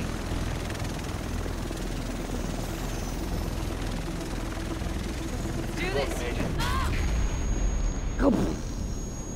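A helicopter in The Division, its steady rotor drone running throughout under in-game dialogue, with brief sweeping effects near the end.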